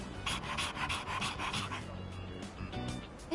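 A dog in the video game Persona 3 Reload pants in quick, steady, close breaths, with a few soft whimpers and no speech over it.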